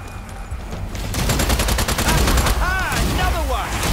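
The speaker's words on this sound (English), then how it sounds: "I'll just let the cannon go." Rapid bursts of cannon fire in the video game Strange Brigade boom repeatedly in a dense, loud barrage, with whistling projectile sounds and faint voices mixed in.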